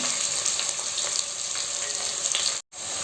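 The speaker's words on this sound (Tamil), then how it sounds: "இப்போ இந்த வெங்காயம் நல்ல கோல்டன் ப்ரௌன் கலர் வர்ற வரைக்கும் நம்ம வதக்கணும்." Two hundred grams of thinly sliced onions sauté in a pan for mushroom biryani, giving a constant bright hiss with faint crackles that cuts off briefly near the end.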